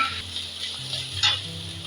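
Ginger garlic paste fries in a pan with whole spices, hissing softly and steadily, close up, while a low tone shifts in pitch underneath.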